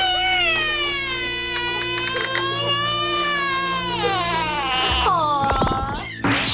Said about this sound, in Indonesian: hal ini membuat bayi menangis keras